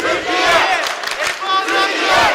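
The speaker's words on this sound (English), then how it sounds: "Hear the cheers from them as FA Turk at the foul line hits the free throw" Loud crowd in a basketball arena at a European Championship men's quarterfinal, Great Britain versus Türkiye, roaring and chanting in sustained surging waves for a Türkiye free throw.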